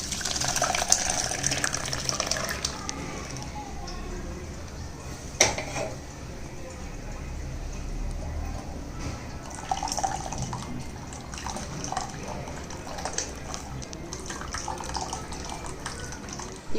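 Kollu (horse gram) rasam is strained and poured with soft liquid splashes and drips, plus a few light clinks of a vessel, fairly close and steady, with no talking.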